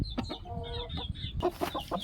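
A rooster fitted with a leg support gives short, soft clucks and croaky calls up close, a few brief bursts in quick succession.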